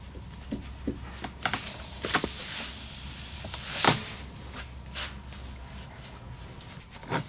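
Air hisses from a rear tire puncture right after a screw is pulled out, a loud broadband rush lasting about two seconds amid quieter handling noises, with no talking.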